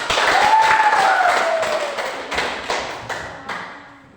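Pupils in a classroom applaud all the presentation groups, a short burst of clapping and tapping that starts strong and thins into scattered claps before fading out.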